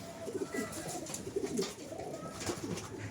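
Big Kaldumа pigeons at a sale coo in repeated low throaty bursts, close and fairly faint, over a murmuring background.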